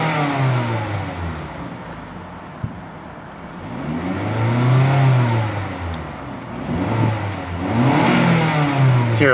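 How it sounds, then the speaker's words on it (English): A 2011 Mazda CX-7's turbocharged engine revs repeatedly outdoors in chilly, windy weather, pitch climbing and falling in several sweeping bursts with a high turbo whine riding over the engine note, close and fairly loud. "Hear a bit of the turbo whine."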